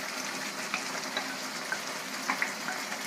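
Onion and carrots fry in a hot pan for pansit, a steady close sizzle with occasional small pops and crackles, no voices over it.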